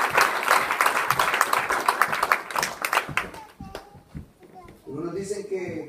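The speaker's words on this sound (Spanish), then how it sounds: "a su nombre podemos darle una ofrenda de aplauso al Dios de los cielos" Church congregation clapping together as an offering of applause to God, a loud burst of many hands over a voice, fading into scattered claps and murmuring.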